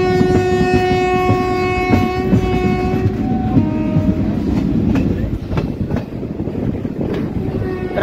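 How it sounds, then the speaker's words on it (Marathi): Passenger train on the Nanded to Chhatrapati Sambhaji Nagar route, running after leaving Jalna; a loud, sustained horn blast over rumbling wheels and clickety-clack of the cars, heard up close. "10:05 जालना येथून आपली ट्रेन निघालेली आहे."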